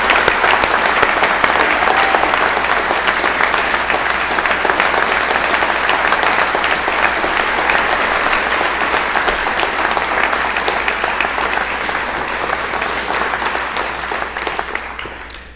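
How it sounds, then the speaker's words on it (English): A University of Guelph convocation ceremony audience gives a long, sustained round of applause, dense and steady clapping that fades slightly toward the end. "May I ask us all to give him a round of applause to thank him for his service to the university."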